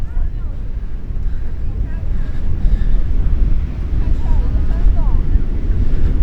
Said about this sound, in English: Wow, those waves are just incredible.